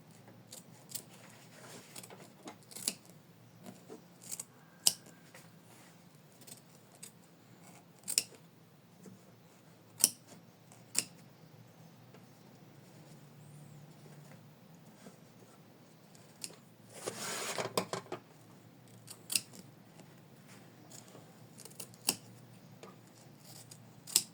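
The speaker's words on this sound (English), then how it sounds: "So taking time to trim it well and not to cut my stitching." Scissors trim felt around stitching with sparse, crisp snips spaced a few seconds apart, close and quiet, and a brief cluster of rustling cuts near the end.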